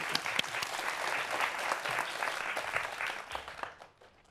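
An audience applauds a robotics professor at a Korean broadcast lecture event, a dense wash of many clapping hands that holds steady and then fades out at the end.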